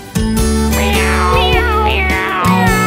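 Gliding, high meow calls sung by a voice imitating a cat, heard several times over a steady, loud musical backing in a children's nursery rhyme.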